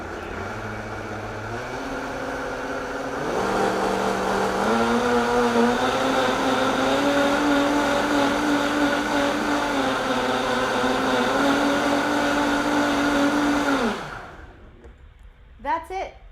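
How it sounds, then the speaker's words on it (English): A countertop blender whirs loudly while blending clafoutis batter, rising in pitch after a few seconds, holding a steady roar, then winding down abruptly near the end; brief kitchen clatter follows. "All we have to do is blend it for like a minute."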